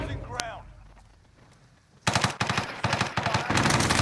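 A sentry gun in a first-person shooter game opens fire in a loud, sustained automatic burst after two quiet seconds, with a brief voice just before.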